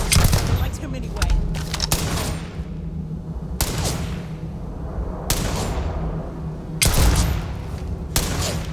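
Bursts of gunfire and heavy booming blasts in the sci-fi video game Starfield, coming in repeated volleys with short lulls between them, loud and close, with shouted voices mixed in.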